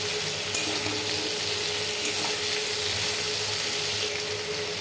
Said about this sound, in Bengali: আলু আর কাঁঠালের দানা। এটা একটু ভাজা ভাজা হবে